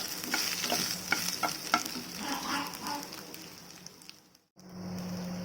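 Dried red chillies and chopped ginger fry in a pan, sizzling close up while a spoon stirs and scrapes, before a brief pause and a steadier hiss.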